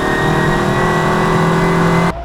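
Twin cam 16-valve classic Mini Cooper engine held high against the rev limiter, a loud, steady buzzing drone with a faint stutter that cuts off abruptly at the end.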